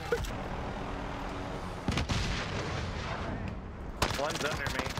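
Rapid, sharp bursts of gunfire from a helicopter combat video game, dense and continuous with heavier volleys, while players shout over it.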